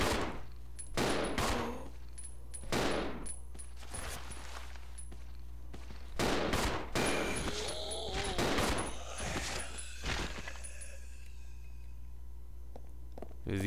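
Gunfire cracks out in Resident Evil Zero, a string of sharp loud shots in uneven bursts with short pauses, close and punchy, ringing against a quiet background with faint footsteps between.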